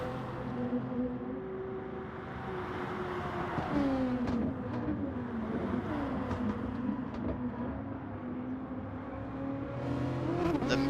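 A race car in Gran Turismo Sport holds a high, steady engine whine that rises and falls with gear changes as it drives out of a turn in another car's slipstream, with brief tire and shifting sounds throughout.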